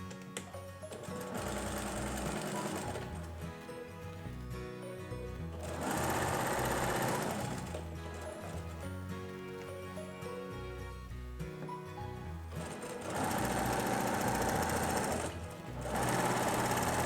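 A sewing machine stitches patchwork fabric for a Seminole-technique table runner, running in steady mechanical bursts that swell louder in a few stretches, with no talking.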